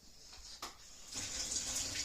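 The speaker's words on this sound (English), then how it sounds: "I'm going to add some hot water" Hot water pours onto potatoes in a pan. A soft clunk comes first, then a splashing stream begins partway through and keeps running, quiet and close. No talking.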